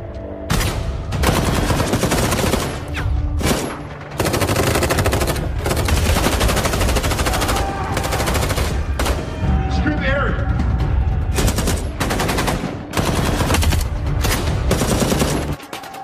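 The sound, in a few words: gunfire in a movie shootout scene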